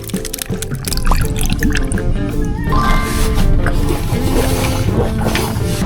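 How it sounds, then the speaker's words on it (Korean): Liquid is poured and splashed while mixing an energy drink outdoors near a convenience store, with wet gurgling and drips heard up close over steady street noise. "에너지 음료 제조해서 먹고 다시 출발합니다"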